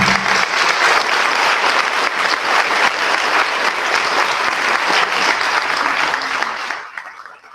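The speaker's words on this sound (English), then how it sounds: "You now can give them a round of applause." An audience claps loudly and continuously, a dense roar of hands that holds steady for several seconds before fading out quickly at the end.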